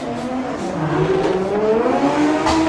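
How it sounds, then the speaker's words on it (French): Drift cars at a 2022 French Drift Championship battle run launching off the start line: loud, close engines revving and climbing in pitch, with tire squeal. "Top départ pour Antoine Amar, Mathias Locatelli, qui est leader"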